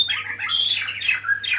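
A bird at an aviary in Indonesia lets out loud, harsh squawks close by, several raspy calls in quick succession with brief dips between them and no talking.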